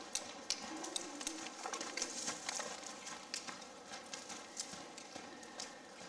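During a riding lesson, a horse's hooves trot in a steady, even clip-clop rhythm, quiet and somewhat distant.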